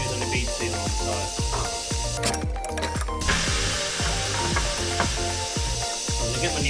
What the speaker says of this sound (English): So we've got wire brush and a drill. I'm just going to spin that around the rim.